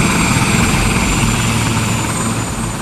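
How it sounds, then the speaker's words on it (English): Helicopter landing on a car park roof, a loud, close, continuous rotor and engine roar with a steady thudding beat filling the whole stretch, no voices heard. "He's directing pilots and helicopters from Louisiana and out of state as they land on the roof of the car park."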